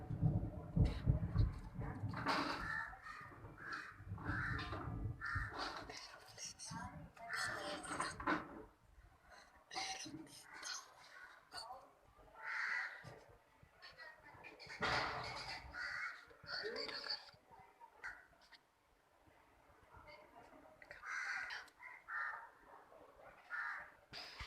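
Crows caw repeatedly during a cyclone with heavy rain in Bhosari, Pune, harsh calls at moderate distance that recur throughout over a rumbling wash of wind and rain.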